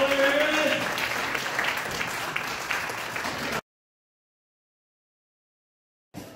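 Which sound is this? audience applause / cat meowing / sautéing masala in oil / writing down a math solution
audience applause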